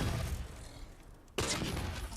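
A Halo 4 binary rifle fires a single sharp shot that cuts in abruptly, loud and close, followed by a broad rushing tail, with a dull rumbling game ambience before it.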